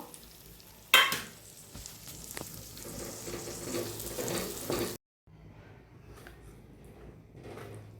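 Masala-coated paneer dropped into hot oil, a sharp splash, then loud steady sizzling and frying close by. It cuts off abruptly and returns as quieter frying.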